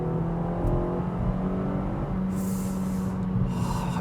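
A 2021 Kia Forte 5 GT with manual transmission revving its engine to around 4,000 RPM, a steady nearby drone with a rising whir, heard from inside the cabin with no talk.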